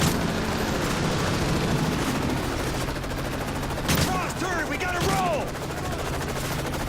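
Gunfire in the Modern Warfare 3 campaign, rapid automatic bursts rattling throughout at moderate loudness, with a sharp louder crack near the middle and a voice speaking over it.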